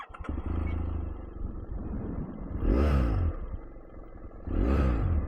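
A BMW F 700 GS motorcycle engine with an aftermarket exhaust cranks and catches, then idles with a rough rumble and revs up twice in loud surges, close by.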